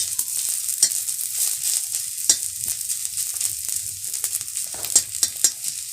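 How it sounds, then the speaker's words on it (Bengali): Soybean chunks fry in a pan for a Bengali malai curry, giving a steady close sizzle with scattered sharp crackles and pops, and no talking. "ভাজাটা হয়ে আসছে"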